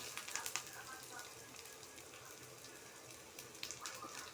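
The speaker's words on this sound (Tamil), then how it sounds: "கடுகு நல்லா பொரிஞ்சு வரட்டும்" Mustard seeds spluttering in hot oil while tempering for a banana stem dal kootu, a faint, steady crackle with scattered sharper pops, some clustered near the start and toward the end.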